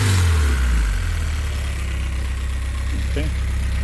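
An Exocet car idles after a cold start, its intake and engine note a steady loud low rumble throughout, with a brief rev-like swell near the start.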